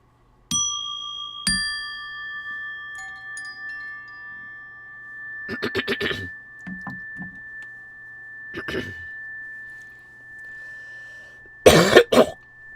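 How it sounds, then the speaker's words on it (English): A few ringing chime notes sound, then a speaker coughs in a couple of short, close bursts, ending with a louder cough fit after a pause. "I have a bit of a cough."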